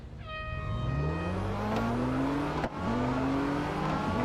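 A race car engine in the Real Racing 3 video game on the long Dubai circuit, revving loudly and climbing through the gears with a brief drop during a shift, accompanied by a faint tire squeal.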